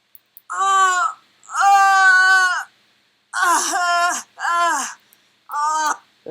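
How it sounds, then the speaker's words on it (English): A woman groans as a sound effect, five drawn-out moaning cries of uneven length with short silences between them, close and fairly loud. "That's the sound of a woman groaning."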